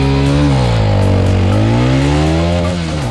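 A stock-exhaust CF Moto 250 SR, a liquid-cooled 250cc single-cylinder motorcycle, runs loud and close with a steady, buzzy engine note that rises and falls slightly as the revs shift.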